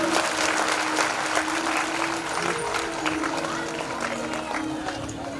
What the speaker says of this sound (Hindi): सब लोग एक बार जोरदार ताली लगाएं